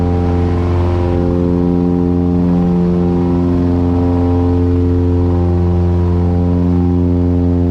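Piper Seminole twin-engine airplane climbing out at night with the landing gear retracting, a loud steady drone of both engines with strong harmonic tones filling the cabin throughout.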